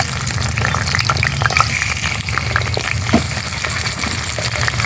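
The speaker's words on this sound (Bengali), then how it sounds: "কড়াইতে তেল দিয়ে দিয়েছি, তেলও গরম হয়ে গেছে। এখন আমি ধামসা আলুগুলোকে ভেজে নেব।" Large cut potatoes frying in hot oil in a kadai, a loud continuous close hiss and bubbling sizzle that holds steady without pause.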